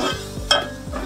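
Chopped onion tossed into hot oil and stirred over high flame in a pan, a brief burst of sizzle with a few quick utensil scrapes and one sharp clink, close up with no talking.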